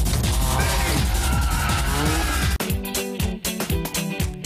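A car drifting, engine revs climbing and dropping with tire squeal for the first half, then cutting to sharper, choppier engine bursts and pauses, loud and near.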